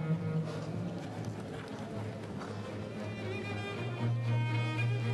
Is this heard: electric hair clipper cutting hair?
no